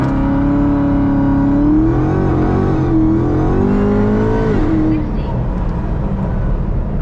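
Hellephant-engined Chrysler 300 launching from a standstill with wheelspin, its engine roaring and rising in pitch, then dropping and easing off after about five seconds, close and loud.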